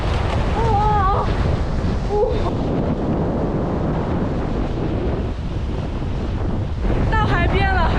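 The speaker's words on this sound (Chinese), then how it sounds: "今天是南风天，风实在太大了，我感觉我都要被吹走了" Strong south wind buffets the microphone at the seashore, a loud, constant roar mixed with surf, while a person speaks intermittently through the gusts.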